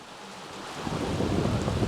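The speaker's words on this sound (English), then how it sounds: "Raining out there." Steady rain hiss swelling into a low rumble of thunder in The Sims 3, broad and enveloping, with no voices.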